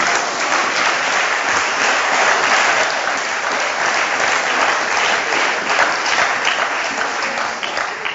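A church congregation claps and cheers in sustained, dense applause that fills the room at a loud, even level throughout, with no clear voices standing out.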